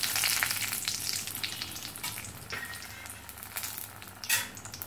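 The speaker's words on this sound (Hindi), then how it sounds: "तेल गरम भऽ गेल अछि। अब एहिमे हम देब तेजपत्ता" Bay leaves and dried chilies frying in hot oil, a continuous crackling sizzle with scattered pops and one louder spatter burst near the end.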